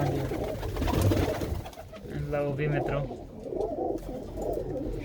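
Pigeons cooing close by in a loft of racing pigeons, soft repeated low coos under someone speaking briefly.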